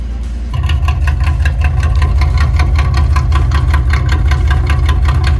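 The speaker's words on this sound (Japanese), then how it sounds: "このアイドリングサウンドがやっぱり独特だよね。" A classic Nissan Skyline Hakosuka engine fires up after a brief quiet moment, then settles into a loud, close, steady idle with an even, lumpy throb. No one speaks.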